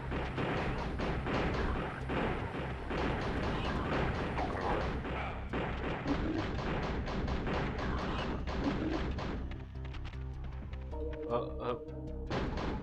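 Rapid gunfire and thudding impacts from pickup trucks in a 1998 prototype of the video game Duke Nukem: Time to Kill, dense and repetitive, with someone talking over it.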